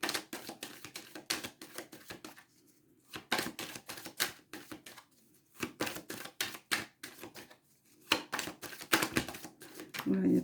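Tarot cards shuffled by hand in rapid bursts of crisp riffling clicks and taps, separated by short pauses, with soft speech underneath at times.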